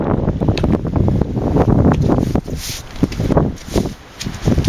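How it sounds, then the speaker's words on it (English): Strong gusts of wind buffet the microphone outdoors, a loud rumbling roar that swells and dips, with faint rustling underneath. "It's a bit windy out here."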